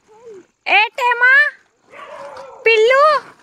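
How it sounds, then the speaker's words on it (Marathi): A puppy barks and whimpers in a burst of high yelps and short cries, close and loud, with quieter pauses between the outbursts at a family New Year's Eve celebration. "पिल्लू"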